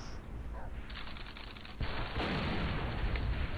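A grenade blast in Call of Duty: World at War, a loud, broad boom near the middle that swells the ongoing battle noise and gunfire into a sustained roar.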